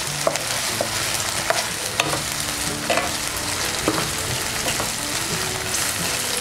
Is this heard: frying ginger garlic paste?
yes